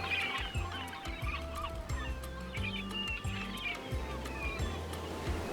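Seabirds swarm and call above the open water off Boston as whales surface, a dense clamour of honking, squawking cries layered over steady wind and boat rumble, close and continuous.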